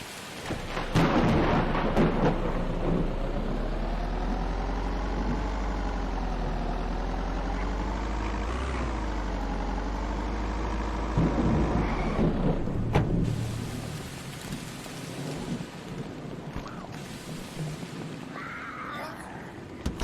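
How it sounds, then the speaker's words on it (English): Heavy rain and rolling thunder in the zombie survival game Vein: a loud, dense roar with low rumbling sweeps, then a quieter, thinner patter after the storm eases. "That is a lot of rain."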